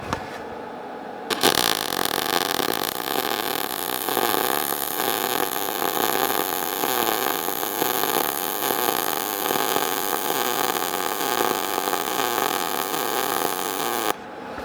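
MIG welder laying a bead in a single steady pass, a loud continuous crackling buzz starting abruptly and running uninterrupted for about thirteen seconds before cutting off, close up with no talking.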